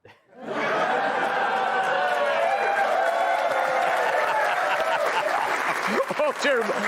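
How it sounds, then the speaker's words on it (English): Studio audience at the late-night talk show Gutfeld breaks into loud, sustained applause mixed with cheers and laughter, filling the room steadily for several seconds before thinning out near the end. "Hold your applause."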